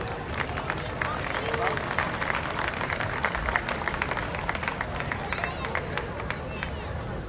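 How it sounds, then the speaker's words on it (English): A large crowd at a county band festival claps for the band directors, sustained dense applause mixed with cheering and background chatter, steady and moderately loud throughout. "A big round of applause for those directors."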